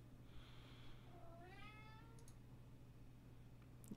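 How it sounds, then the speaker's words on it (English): A cat gives one drawn-out meow over low steady background hum, fairly faint and distant, with a couple of small clicks afterward and no talking. "This cat is loud as sin."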